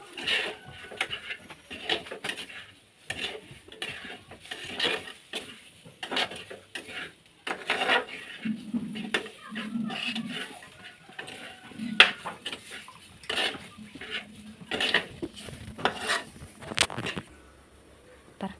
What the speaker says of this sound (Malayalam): ഇതിൻ്റെ പച്ചമണം മാറണ വരെ നമുക്ക് ഇളക്കി കൊടുക്കാം.